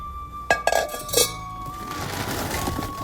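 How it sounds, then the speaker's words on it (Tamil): A brass pot clinks and clatters while being washed, a few bright ringing knocks up close followed by splashing, scrubbing noise with no talk. "இது பித்தாளையில் செம்பு. இதை நம்ம நீட்டாக கழுவி வைக்கலாம்."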